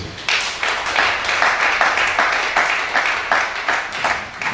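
Church congregation at a Gabonese worship service bursting into sustained applause, dense steady clapping from many hands with a few louder rhythmic surges, close and continuous for several seconds.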